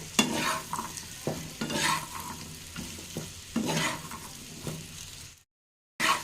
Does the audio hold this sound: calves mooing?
no